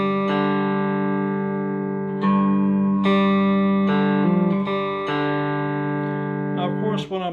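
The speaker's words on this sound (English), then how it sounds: "I'm doing a downstroke on the bottom string and an upstroke on the top string" A cigar box guitar plays a riff on open strings with a hammer-on, alternating downstrokes and upstrokes so bright plucked notes ring out and overlap in an uneven rhythm, clear and close.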